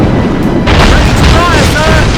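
Ship cannons boom in Assassin's Creed Rogue, a dense, loud, roaring blast filling the short moment, with shouting voices mixed into the din.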